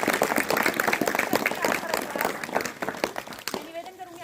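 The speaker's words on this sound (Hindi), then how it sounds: "तो आप सभी तालियों की गड़गड़ाहट के साथ" A school audience at a district-level news reading competition breaks into lively applause, a dense, rapid clatter of many hands that tapers off near the end as a voice begins speaking.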